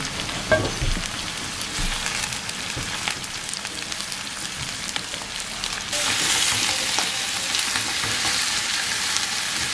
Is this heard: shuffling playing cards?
no